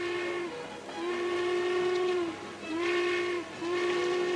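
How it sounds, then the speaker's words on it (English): A steam train's whistle sounds as it pulls out, several long sustained blasts separated by short gaps over a steady background rumble. "The train just pulled out."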